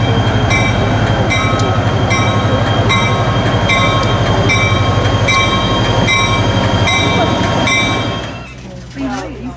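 Agawa Canyon tour train rumbles close by with a steady rhythmic wheel clatter and a constant hum of machinery, then fades suddenly near the end, with faint voices of waiting passengers.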